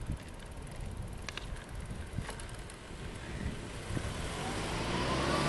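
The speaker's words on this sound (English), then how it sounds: "so you got a car that just pulls right out in front of you" Passing car heard from a bicycle on a road, a broad engine and tyre rumble with steady wind noise over the microphone, rising slightly toward the end.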